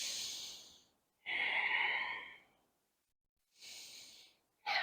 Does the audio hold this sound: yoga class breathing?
yes